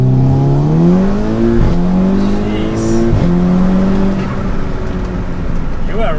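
A Volkswagen Golf R launching hard, the engine note climbing loud and close through rising harmonic sweeps with short breaks at shifts, then settling into a steady drone.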